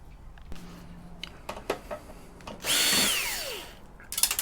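A cordless screwdriver with a weak, draining battery whirs in a short burst, its motor pitch sweeping down as it slows. Several clicks and taps come before it, and another short whir follows.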